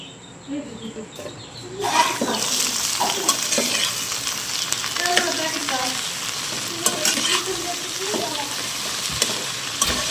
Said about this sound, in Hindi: भिंडियाँ जो है ना वो फ्राई होना स्टार्ट हो गई हैं।